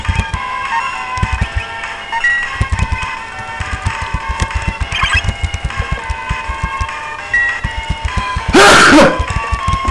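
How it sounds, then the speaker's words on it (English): A sneeze bursts out loudly near the end, one sharp close blast over a steady background of rhythmic clicking and tones from a video game. "Ah, there we go, I finally sneezed."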